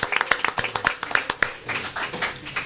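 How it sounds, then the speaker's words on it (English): Clapping from a small group at a Brawley city council meeting, a scatter of sharp individual claps that turns into denser, uneven applause, fairly close. "So I want to give you guys a round of applause."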